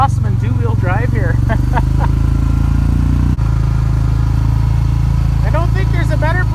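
A side-by-side off-road vehicle engine drones steadily while driving through the bush in two-wheel drive, with a constant close mid-pitched rumble and clatter, as a voice speaks over it at the start and end.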